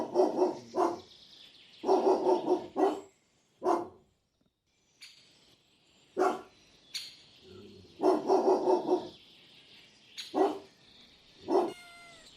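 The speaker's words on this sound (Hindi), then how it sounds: "डॉग को हिंदी में कुत्ता कहते हैं।" A dog barks in repeated bursts of loud, close barks, with short gaps and some higher yips between groups.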